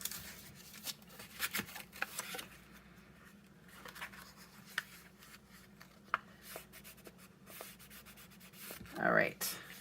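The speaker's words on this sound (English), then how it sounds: "I just go in and I fold and I crease." Paper is folded and creased by hand while building a match box with Stampin' Up! crafting products, giving quiet, close rustling and rubbing strokes in irregular bursts.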